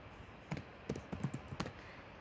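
Keystrokes on a computer keyboard while code for a Pascal program is entered, a handful of sharp clicks in irregular bursts, close and fairly quiet with no talking.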